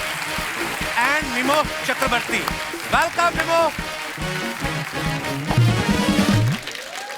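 A studio audience on the Kapil Sharma Show claps steadily in a broad, sustained wash as guests are welcomed, while a host's voice speaks loudly over the applause throughout.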